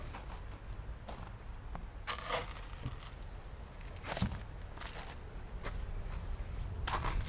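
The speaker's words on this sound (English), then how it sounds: "Very loud, but look at that. All the bees are up at the top." Honeybees in an opened beehive make a soft, continuous low hum, with scattered knocks and scrapes from handling the hive breaking through at intervals.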